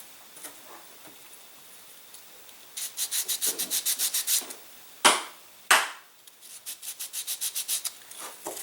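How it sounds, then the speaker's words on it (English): Small model airplane wing parts for a micro pylon racer being sanded by hand, with rapid rhythmic rubbing strokes in runs of about a dozen, two sharper scrapes between them, close and clear. "And we'll also, as we did before, sand these a little bit."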